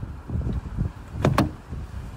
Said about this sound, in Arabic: افتح الباب